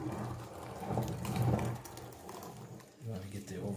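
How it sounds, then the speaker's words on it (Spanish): A meat grinder churns pork into Mexican chorizo with a faint, uneven mechanical whir and grinding rattle, rising and easing under quiet talk nearby. "ya empezó a moler la carne"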